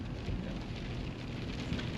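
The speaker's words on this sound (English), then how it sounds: "it might be rain and snow" A steady, dense patter of mixed rain and snow drums on a car during a fast-falling snowstorm on covered roads. It sounds as an even, hissing wash from inside the vehicle with no talk.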